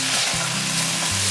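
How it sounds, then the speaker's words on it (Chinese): Corn kernels and rice beans are stir-fried in a wok, giving a close, continuous hiss of frying with a low rumbling undertone. "赶快把它炒一炒"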